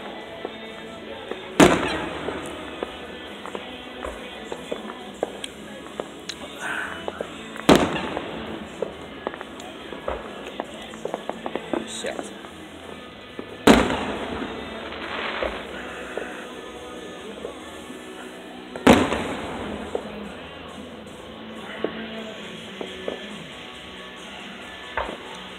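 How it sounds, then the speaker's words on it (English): Fourth of July fireworks burst in loud sharp booms every few seconds, with crackling and popping in between, and people talking faintly in the background. "watching the fireworks"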